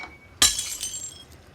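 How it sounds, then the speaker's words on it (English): A glass cup knocked over in a TV drama scene hits and breaks with one sharp shatter, and a few bright tinkling fragments follow and fade quickly. No one speaks. "he proceeds to make a massive whoopsie-daisy by knocking over a glass cup"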